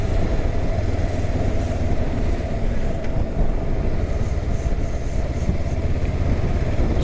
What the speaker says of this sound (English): Picked up a little group of bikes here, obviously out for a ride.